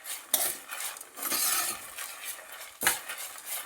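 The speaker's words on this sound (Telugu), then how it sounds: "దగ్గరే ఉండి కొంచెం కలర్ వచ్చేలాగా, లైట్ కలర్ వచ్చేలాగా వేపండి" Food fried in a pan until lightly browned, with clinking spoon-against-pan stirring and scraping over a soft sizzle, close by and with no talking.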